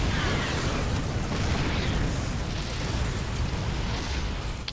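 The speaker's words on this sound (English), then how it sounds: "A little bit more kind of explosions taking place." Continuous rumbling explosions and dense blasts fill a StarCraft Terran-versus-Terran match, a loud, steady wash of booming battle noise with no pauses.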